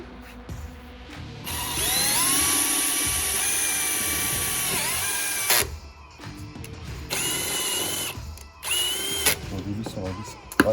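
A Hilti power drill fitted with a right-angle attachment whirs loudly in long sustained runs, its pitch rising and falling, broken by short pauses as a screw is driven, with voices talking in between.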